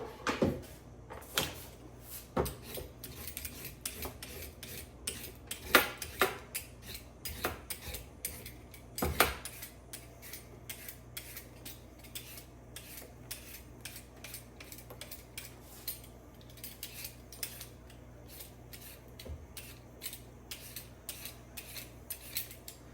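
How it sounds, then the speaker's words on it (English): Peeling and cubing sweet potato in a home kitchen: a series of close, sharp scraping strokes and knife clicks, busier early then sparser, with occasional louder knocks, no talking. "we're going to peel and cube up some sweet potato"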